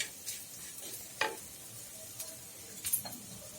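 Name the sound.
chili powder frying in a pan for sardine curry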